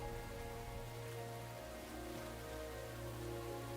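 Soft, steady rainfall in the video game Enshrouded patters continuously over a low, sustained musical drone, quiet and even throughout.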